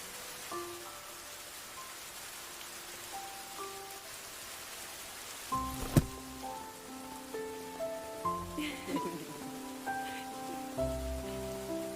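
Rain falling during a walk to a library: a soft, steady hiss of rain runs throughout, with a gentle melody of sustained musical notes playing over it and growing fuller in the second half.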